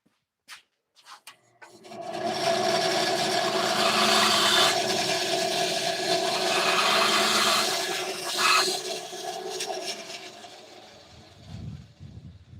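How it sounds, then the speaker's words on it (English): A bandsaw cuts through a piece of wood with a loud, sustained whine and rasp that runs for about nine seconds and then winds down into quieter rattling. "I'm gonna cut this on the bandsaw."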